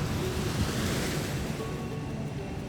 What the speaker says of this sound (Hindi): इतनी जोर से हवा चल रही है।